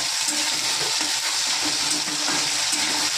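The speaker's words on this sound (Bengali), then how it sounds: "একটু ভাজা হয়ে গেছে আলুগুলো" Potatoes frying in a pan, a dense, continuous close sizzle heard alone without pause.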